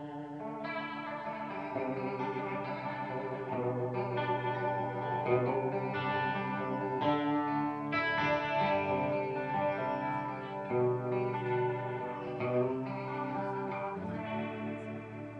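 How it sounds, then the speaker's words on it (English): Electric guitar played through a Korg G4 Leslie-style rotary speaker pedal, giving a swirling, warbling chorus-like tone over sustained chords and melodic lines, steady and prominent for the whole passage with no talking. "I like the Korg G4. I think it has the best, truest Leslie sound, and it kind of does this thing here."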